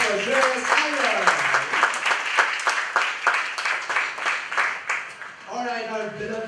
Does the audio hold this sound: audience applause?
yes